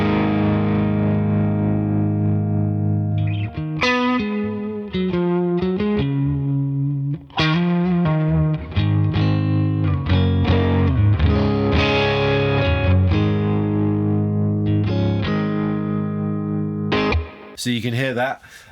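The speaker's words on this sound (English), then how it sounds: "I've loaded up one of my presets called Dirty Bottom, which has got some reverb and delay on it" An electric guitar plays through a Neural DSP Tone King Imperial MKII amp preset with reverb and delay, a loud, continuous run of ringing chords and notes with trailing echoes.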